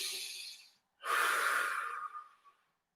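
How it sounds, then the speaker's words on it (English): Two deep breaths in a calm exercise setting: a long airy inhale, a short pause, then a fuller breathy exhale that trails off, close and fairly quiet, with no talking. "2 deep breaths."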